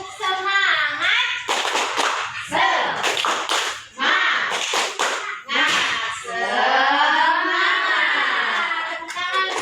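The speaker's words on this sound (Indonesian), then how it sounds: "Tepuk semangat dulu ya." Primary school pupils in a classroom perform the tepuk semangat routine, chanting loudly together in sung, rising phrases punctuated by sharp rhythmic hand claps and slaps, with brief pauses between sections.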